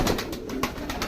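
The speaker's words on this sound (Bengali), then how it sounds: "এখানে মোট 13 কালারের 15 পেয়ার কবুতর আছে" Pigeons coo softly and repeatedly in a loft housing about fifteen pairs, several low throaty calls overlapping close by.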